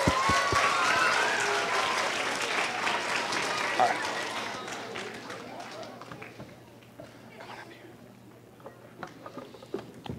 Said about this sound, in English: Give her a round of applause while she comes up here.